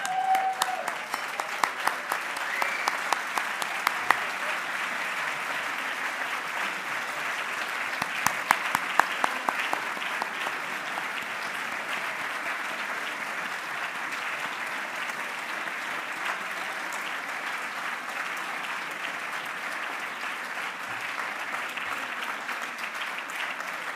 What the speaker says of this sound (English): upstanding applause for Louise